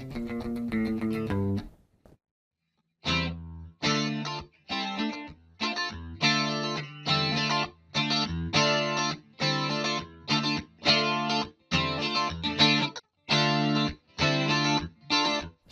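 Distorted electric guitar playing a rhythm part through a Line 6 AMPLIFi practice amp, loud, steady chopped chords in a repeating pattern after a short opening phrase and brief pause.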